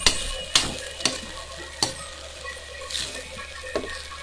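Pansit bihon noodles are stirred as they fry in a pan, a constant sizzle punctuated by regular utensil clacks against the pan about every half second, close and clear with no talk.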